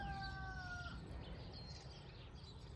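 Chickens cluck and call softly from a short distance at feeding time, with a brief higher bird call near the start over a faint outdoor background.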